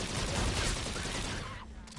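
A firework trap goes off in a video game, a dense crackling burst of rapid pops and bangs, loud and close, thinning out near the end.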